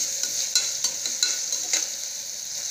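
Onions frying in a pan for white pulao give a constant bright hiss, with a regular series of light spoon scrapes and taps as they are stirred, and no one speaks.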